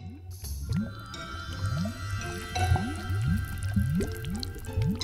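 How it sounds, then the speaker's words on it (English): A cartoon vinegar and baking soda reaction bubbles and fizzes: a steady run of rising, drip-like blooping pops repeating at a quick rhythm over a faint fizzing bed, close and fairly loud, with no talking. "The vinegar reacts with the baking soda, creating little bubbles that lift the vinegar."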